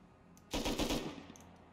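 A rapid burst of automatic gunfire from a gun in the video game Rust, roughly five quick loud shots in under half a second, followed by a couple of faint distant shot echoes.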